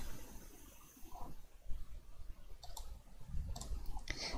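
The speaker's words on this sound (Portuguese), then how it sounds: "Você clica em exportar." A few mouse clicks while exporting a document from LibreOffice Writer, sharp isolated ticks arriving late and close together against a quiet room hum.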